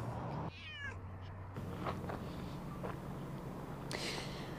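A pet cat meows during a wildfire evacuation, giving a short, faint rising cry early on, with a few softer sounds after it against a quiet room background.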